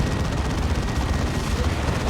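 A Space Marine lascannon fires in a Warhammer 40,000: Dawn of War 2 match, within a dense, loud, continuous din of gunfire and explosions with no break.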